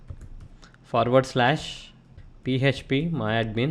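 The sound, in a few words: computer keyboard typing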